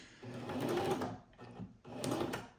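A sewing machine stitches briefly in reverse while making traveler's notebook pockets, giving two short mechanical whirring bursts with a pause between, close and without talk.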